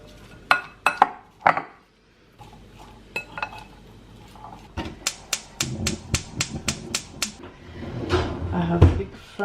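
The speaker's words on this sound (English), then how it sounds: "Just mixing everything together." Clinking of a utensil against a bowl, a series of quick taps and scrapes in an irregular rhythm, close by.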